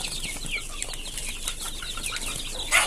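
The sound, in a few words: chicks of desi (native) chickens on a farm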